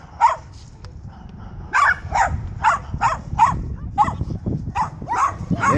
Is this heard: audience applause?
no